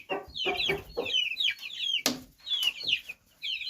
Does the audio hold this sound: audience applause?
no